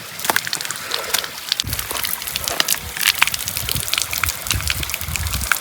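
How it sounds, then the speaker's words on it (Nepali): Water gushes and splashes from two household taps, a continuous watery hiss with irregular spatters and trickling, fairly close and moderately loud. "ल साथीहरू दुईटै धारामा पानी आयो"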